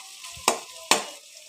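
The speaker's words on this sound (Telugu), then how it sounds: "బాగా బ్రౌనిష్ వచ్చేదాకా ఫ్రై చేయాలి." Onions, green chillies, curry leaves and tomato frying in hot oil for Nandyal-style upma, with a steady sizzle broken by two sharp scraping stirs of the pan.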